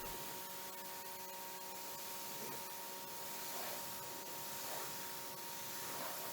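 Water spraying onto car paint to rinse off snow foam gives a steady, close hiss with no breaks, loud and even throughout, with no one talking.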